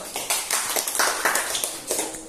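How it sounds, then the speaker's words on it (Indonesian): A school class claps hands during a fiqh lesson, a short burst of close, uneven individual claps in a classroom. "Tepuk tangan dulu."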